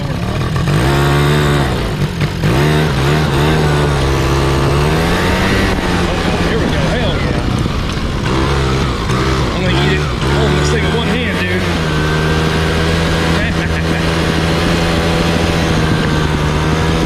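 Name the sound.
small engine revving on a farm vehicle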